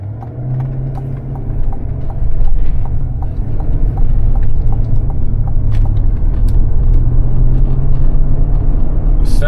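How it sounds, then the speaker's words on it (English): Engine of an armored 2022 Yukon XL Denali while driving, a loud, steady low rumble with road noise and faint rhythmic ticking inside the cabin. "I'm actually kind of surprised that I can still hear like the motor as much as I can"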